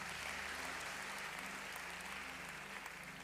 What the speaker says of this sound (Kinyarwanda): Dukomere Imana amashyi nanone